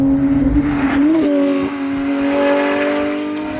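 A Porsche 911 GT3 sports car drives steadily, its engine holding a loud, sustained tone that climbs briefly and then stays even, with no voices over it.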